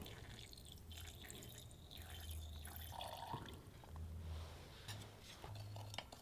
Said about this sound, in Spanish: Pongo un poco de sulfato de cobre en este vaso y añado agua destilada.